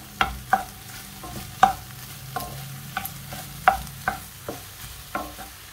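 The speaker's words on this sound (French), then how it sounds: "au bout de 3-4 minutes, on va rajouter les lardons" Onions with bacon lardons frying in a pan, a soft continuous sizzle punctuated by a dozen sharp spatula knocks and scrapes at an irregular stirring rhythm, close and without talk.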